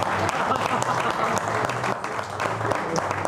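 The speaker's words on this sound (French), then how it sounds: "Ça s'applaudit" An audience at a comedy club applauds steadily, a dense wash of clapping that holds for several seconds, with voices mixed in underneath.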